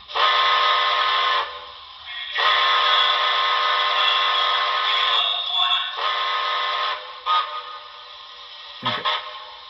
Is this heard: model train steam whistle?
yes